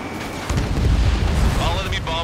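Enemy bombers exploding in a video game: a loud, deep rumbling blast swells up after a brief lull and rolls on for well over a second, with crackling debris near the end.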